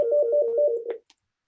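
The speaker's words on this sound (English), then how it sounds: "I can hear Rich's phone ringing as I'm well" A phone rings during a livestreamed town council meeting, one short burst of warbling electronic tone that cuts off abruptly, clear and isolated.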